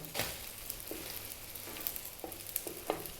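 Food sizzles in a pan while a ham, cheese and egg sandwich is cooked, a quiet steady frying hiss with a few soft clicks and light stirring or utensil taps.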